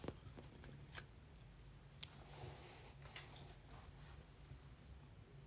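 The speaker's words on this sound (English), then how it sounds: "so I can just use my scissors and snip it out without having to faff about with trimmers" Scissors snip through paper during a papercraft project, a few quiet, sharp cuts spaced about a second apart over a faint background hiss.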